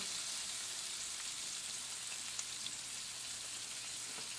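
Cube steaks sizzle steadily in a frying pan just after being turned, a continuous hissing fry with a few faint pops and no talking.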